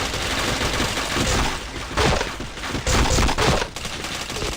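Loud bursts of rapid gunfire fill a shooter video game, with dense overlapping automatic shots and brief gaps between volleys, close and harsh, with no talking.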